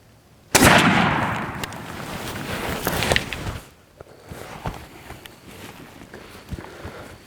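A shotgun fires a Federal 3rd Degree turkey load with a single sharp, loud blast that rolls off over about three seconds, followed by quieter rustles and footstep-like thumps.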